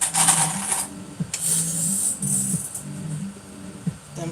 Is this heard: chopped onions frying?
no